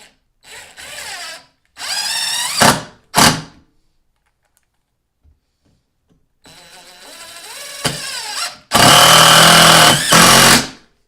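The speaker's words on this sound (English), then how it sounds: "Here's the impact driver, and I'm just going to drive in a few. These are deck screws, the heavy duty deck screws." A Porter Cable 20-volt impact driver drives heavy-duty deck screws into a standard 2x4. It rattles and hammers loudly and close in several bursts, with pauses between screws and a sharp rising whine at the end of each run.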